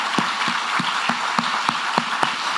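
A church congregation claps in a slow, even rhythm of separate sharp claps, roughly three per second, moderately close with no talk over it.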